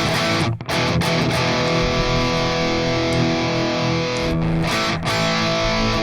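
Heavily distorted, bass-heavy music track processed through a distortion effect in Ardour, a dense and continuous gritty tone with only a few brief dips, no voices.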